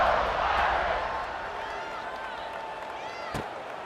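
A home crowd in a college football video game roars loudly at first, then settles into a sustained murmur beneath a commentator's voice.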